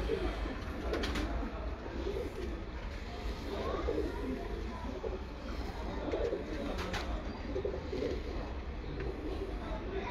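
Breeder pigeons coo in soft, repeated throaty calls at close range, steady over a low background hum with occasional rustling from the loft.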